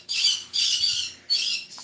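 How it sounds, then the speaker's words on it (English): A pet bird gives three harsh, loud squawks in quick succession, close by and with no talking. "I was in fact delusional in thinking my birds were going to behave."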